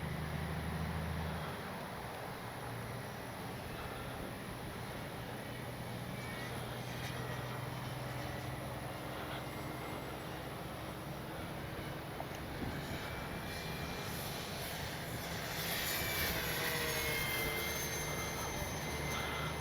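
An X-Fly Spitfire RC model plane flies overhead during speed and performance trials. It gives a faint, steady, distant engine drone under heavy wind-like outdoor noise that swells slightly near the end.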